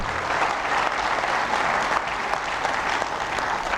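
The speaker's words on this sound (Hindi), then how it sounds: "ताली तो बजा रहे हो" A large audience claps steadily at a Swami Ramdev public gathering, a dense, even wash of many hands that stays loud and unbroken from start to finish with no voices on top.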